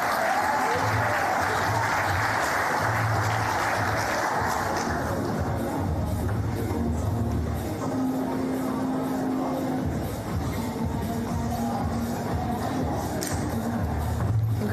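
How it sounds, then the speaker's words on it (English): Crowd clapping steadily at a sports awards ceremony, sustained applause with a murmur of voices and cheering, an announcer's voice talking over it. "Let's have a round of applause for Mark."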